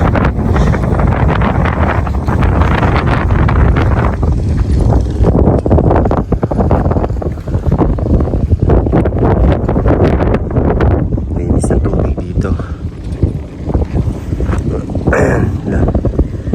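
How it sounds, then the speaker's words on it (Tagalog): Strong, steady wind roars and buffets the microphone throughout, with a person talking underneath the gusts. "Tapos ito yung hangin."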